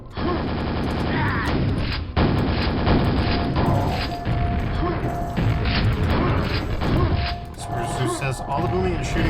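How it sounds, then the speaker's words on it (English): Explosions and gunfire from the Quake video game, heavy booms and rapid shots bursting repeatedly at loud volume, with a voice talking over the barrage. "all the booming and shooting is still drowning you out a little bit"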